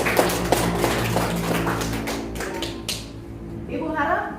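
A classroom gives a short burst of close applause: dense overlapping claps and taps for about three seconds, then the claps thin out and stop, with a voice heard under and after them.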